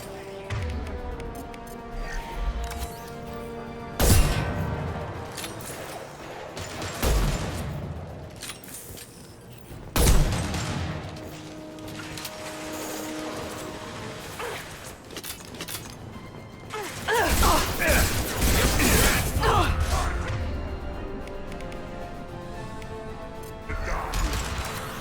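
Sci-fi gunfire in a Mass Effect 2 firefight, with heavy impacts and sharp bursts at intervals over a constant rumble of music and effects; a few brief voices come through.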